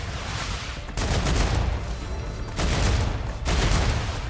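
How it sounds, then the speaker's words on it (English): An M175 Grim light machine gun fires in the StarRupture video game, letting off several loud, rapid bursts of automatic fire separated by brief pauses. "The LMG also looks good and sounds amazing."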